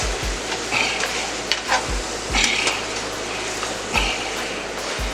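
Brown sugar being stirred into butter in a pan, a steady scraping and soft sizzle with a few sharper utensil knocks against the pan, close and continuous.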